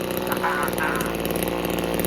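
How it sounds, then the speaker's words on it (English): A Tanaka string trimmer's small two-stroke engine runs steadily and loudly close by, a constant buzzing drone with a slight rise in pitch partway through. "now we got a working weed eater"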